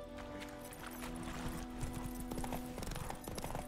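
A horse gallops in the video game The Witcher 3: Wild Hunt, its steady clip-clop of hooves close and clear over faint background music, with a brief whinny and no talking.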